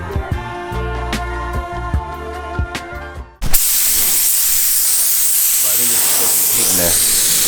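Compressed air blasting dust off a car ahead of painting, a loud, steady broadband hiss that starts abruptly midway and holds to the end, following a stretch of music-like tonal sound with sharp thumps.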